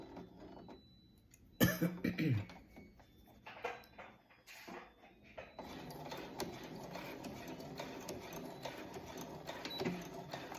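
A sewing machine stitches the facing onto the collar of a dress, running steadily with a whirring, rhythmic mechanical drone after a few brief bursts and a clatter, close up, with a little talk beforehand.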